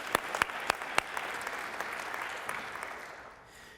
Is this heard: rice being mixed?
no